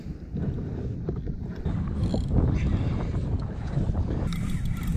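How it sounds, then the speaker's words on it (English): Wind gusting at roughly 10 to 12 knots over open sea off New Zealand, heard from a fishing kayak: a steady, loud rushing roar with buffeting on the microphone and water noise, building slightly partway through. "Okay, so the weather's turned not so nice. Probably blowing 10 or 12 knots now."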